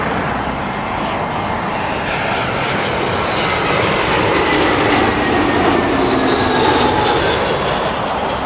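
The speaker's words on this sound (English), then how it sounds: "BA A320 from Rome." A British Airways Airbus A320 jet arriving at London Heathrow roars overhead, a loud continuous engine whine and rumble that swells slowly as it passes close by, with no talking.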